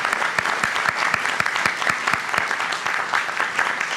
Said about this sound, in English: So if you could just join me in giving them all a round of applause